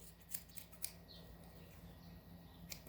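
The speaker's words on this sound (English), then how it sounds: "I know a lot of you aren't used to using scissors up close to your dog's eyes" Small grooming scissors snip close to a Yorkie poo's face near the eyes, giving a few faint, crisp clicks spaced irregularly in a quiet room.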